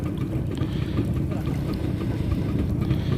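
Motorboat engine droning steadily on a boat trip to Pahawang, a low continuous rumble with wind and water noise and no talk over it.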